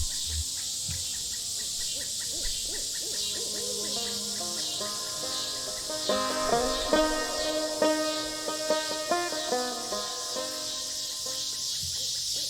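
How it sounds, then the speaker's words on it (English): Cicadas trill in the video game Kentucky Route Zero, a steady high insect drone over a layered ambient bed, with soft tonal chimes and plucked notes rising partway through. "These cicadas getting wild."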